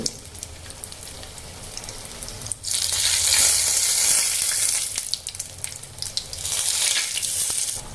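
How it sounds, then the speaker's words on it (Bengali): Pea-filled sandwiches deep frying in hot oil, a loud steady bubbling sizzle that surges after a quieter start, dips briefly, then swells again, with no talking. "আমরা ডিপ ফ্রাই করে নেব।"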